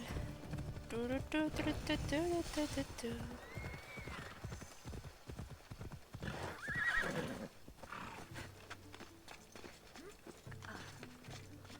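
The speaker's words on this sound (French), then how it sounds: "on monte la montagne à cheval" Video game hooves clip-clop at a steady gallop up a mountain while a horse whinnies loudly twice, with some talking mixed in over the galloping.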